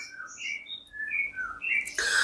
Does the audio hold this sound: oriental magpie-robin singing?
yes